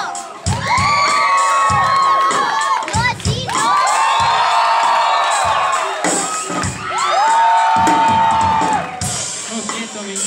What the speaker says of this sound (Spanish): vamos a ver, aplausos.